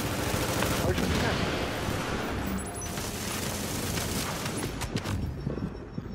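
Gunfire in a multiplayer video game, rapid bursts and crackling volleys of shots filling the clip, loud and continuous, with a player's voice mixed in.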